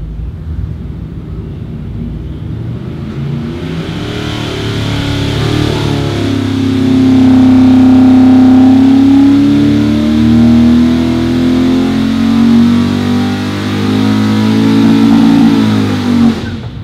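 A small-block Chevy V8, a 400 block built with a 283 crankshaft, revving hard on a dyno, climbing from a rough idle to a loud sustained high-rpm roar and holding there before easing off.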